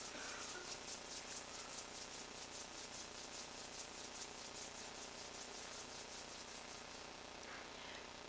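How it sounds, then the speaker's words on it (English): Palms of the hands rubbed steadily together in a slow, even back-and-forth swishing rhythm, close and soft, continuing alone without talk during a guided meditation session. "gently rub the palms of your hands against each other"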